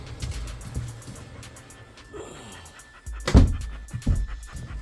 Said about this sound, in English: I got a couple more dogs in this other room.